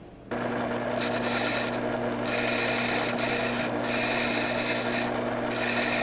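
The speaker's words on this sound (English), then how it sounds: "as the wheel spins, you'll be able to see through it clearly and see the cutting edge being sharpened" A wood carving tool is sharpened on a Work Sharp 3000 spinning wheel with the bevel side up, producing a loud continuous motor hum and abrasive grinding rasp that holds steady throughout.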